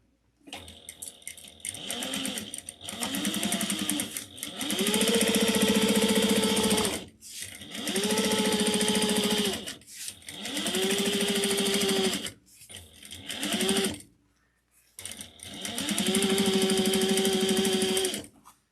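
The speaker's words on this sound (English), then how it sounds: "we're going to top stitch at 1/8 of an inch onto pattern piece J now" Sewing machine top stitching a handbag pattern piece at an eighth of an inch, running in six bursts of steady whirring stitches, each lasting one to three seconds, with short pauses between them, close and fairly loud.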